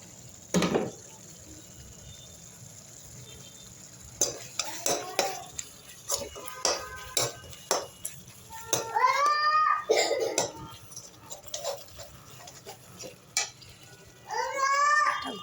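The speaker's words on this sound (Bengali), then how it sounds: "এবার পেঁয়াজটা কষে নেবো ভালো করে, মশলাগুলো নিয়ে একসাথে" Onions and spices with coriander leaves are stirred and sautéed in a pan. A utensil scrapes and clinks against metal in irregular bursts, with quiet sizzling between them and some brief noises in the background.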